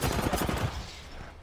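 Rapid automatic gunfire in the battle royale game Apex Legends, a burst of sharp repeated shots in the first half that trails off into quieter ambience, with no talk over it.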